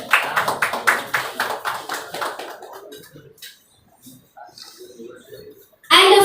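A stage audience at an Odia film event claps loudly and steadily for several seconds, then the applause fades into quieter murmurs and a brief voice.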